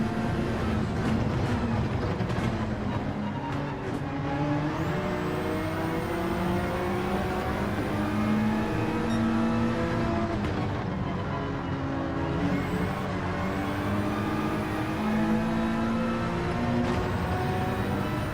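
A Gr4 race car in a video game holds a loud, continuous engine note that climbs in pitch and drops back through quick short-shifted gear changes, running steadily for the whole stretch without talk.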